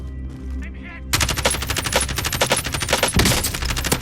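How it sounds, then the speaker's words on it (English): Rapid automatic gunfire in Call of Duty Warzone, dense loud bursts of shots firing continuously after a brief quieter lead-in. "Getting shot from roof too."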